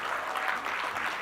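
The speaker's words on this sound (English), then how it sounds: "let's, a big round of applause for all the nominees" Audience applause for award nominees at a news forum event, a steady, dense wash of clapping from a crowd filling the whole stretch without pause.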